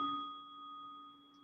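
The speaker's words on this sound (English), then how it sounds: "And that's our final bell." A single bell is struck once and rings out in a clear sustained tone with steady overtones that slowly fade, heard alone in a quiet room.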